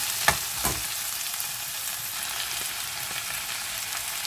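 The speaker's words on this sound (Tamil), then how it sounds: "இப்போ வதங்கி கொண்டிருக்குது." Vegetables sauté for vegetarian fried rice, a steady close sizzle and hiss of frying in a pan, with a couple of brief stirring clinks near the start and no talking.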